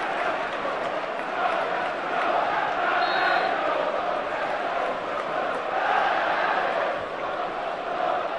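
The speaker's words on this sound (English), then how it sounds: "And now the crowd reward his goal with a ripple of applause." A stadium crowd at a 1994/95 Premier League match between Manchester United and Ipswich Town, a broad steady roar of applause and cheering after an Andy Cole goal, loud and continuous with no breaks.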